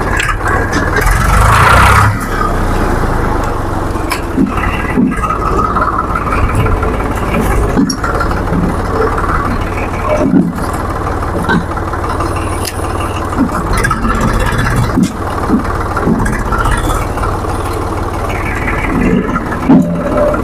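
A Swaraj tractor engine runs at a steady idle, with a low continuous rumble throughout and people talking over it.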